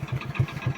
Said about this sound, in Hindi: आप इंजन की ट्यूनिंग सुन सकते हैं कि कितनी अच्छी इंजन की ट्यूनिंग है इसकी, और फुल वर्किंग है।